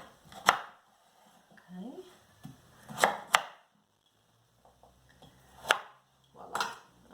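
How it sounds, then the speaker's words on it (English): A knife chopping carrots and sweet potatoes on a cutting board in a home kitchen: sharp, close single chops spaced irregularly, with a short spoken word and quiet handling sounds between them. "I like to cut them, and then I usually just cut them in half one more time to help them cook a little bit faster"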